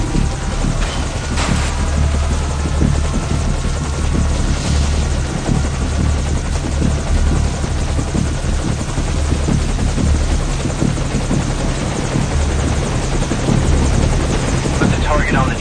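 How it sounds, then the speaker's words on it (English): A helicopter flies in Metal Gear Solid V: Ground Zeroes, its rotor and engine giving a loud, steady thrumming drone that holds for the whole stretch with no break. "Okay, the enemy has spotted our helicopter,"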